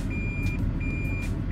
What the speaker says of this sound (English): Yes, my car beeps like a bus or whatever